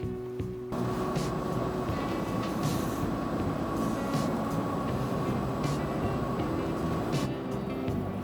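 A KTX high-speed train on the line near Ulsan and Namchang station runs with a steady, loud rumble and hum from inside the carriage, plus a constant tonal whine and brief swells of rushing noise.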